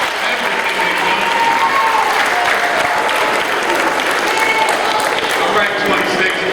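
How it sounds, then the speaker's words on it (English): Eighth-grade graduates at a STEM academy commencement applaud their families in a loud, sustained wave of clapping with cheering voices mixed in, filling a large room at a constant level. "now you give them a round of applause for everything they've done."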